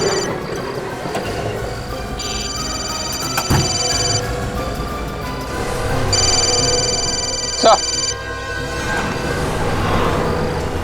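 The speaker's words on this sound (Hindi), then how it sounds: "फोन की घंटी अंदर ही बज रही है।" A mobile phone rings inside a car in two bursts of a repeating electronic ringtone, muffled as if enclosed, while voices talk nearby and a sharp knock cuts in.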